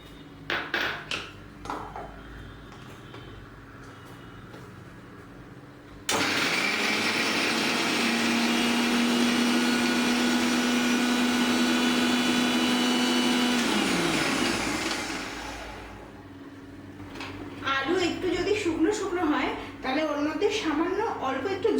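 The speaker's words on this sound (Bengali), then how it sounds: "এবার আমরা প্রথমে আলুটা মিক্সিতে পিষে নেব" Mixer grinder pulverizing boiled potatoes in a home kitchen, a loud steady whirring motor run of about eight seconds that winds down, with someone talking before and clattering handling sounds after.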